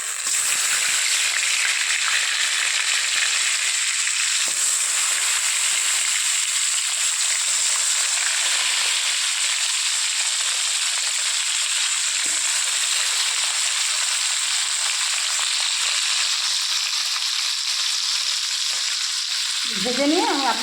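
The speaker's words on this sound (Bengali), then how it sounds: "এবার আমি প্রথমে মাছগুলোকে ভেজে নেব" Fish frying in a pan for a homemade recipe, a loud continuous sizzle with bubbling oil spatter, steady throughout and heard alone with a brief stir near the end.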